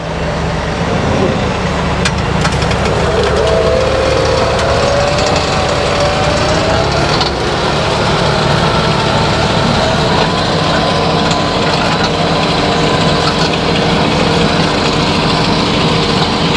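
A tractor pulling a weeding cultivator through a sunflower field gives a loud, steady engine drone with rattling machinery, constant and close for the whole stretch with no speech over it.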